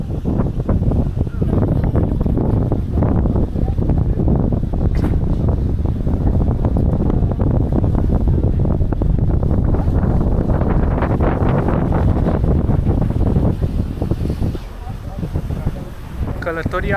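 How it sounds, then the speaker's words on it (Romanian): Strong wind buffets the microphone on an open ferry deck in Norway, a loud, continuous roaring rumble with gusty crackle that drowns out everything for most of the stretch, easing slightly near the end. "nu o să ne mai auzim că bate vântul"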